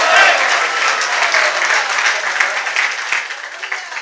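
A church congregation applauds loudly together, a dense wash of clapping that holds steady and then begins to taper off.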